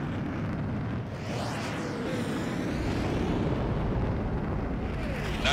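A sustained, roaring explosion rumbles through an aerial combat scene in Ace Combat 7: Skies Unknown, broad and loud with a steady wash of noise throughout.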